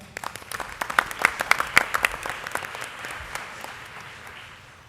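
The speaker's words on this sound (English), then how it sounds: "Let's give them another round of applause." Applause from an audience at a school board meeting celebrating students, bright and lively at first with sharp claps and a few cheers, then gradually thinning and fading toward the end.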